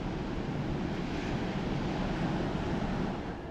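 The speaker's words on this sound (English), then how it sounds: "It's a bit windy today, so the water's a bit choppy." Choppy ocean waves at Vero Beach, Florida, wash in a continuous broad roar, mixed with steady wind noise, moderately loud with no talking.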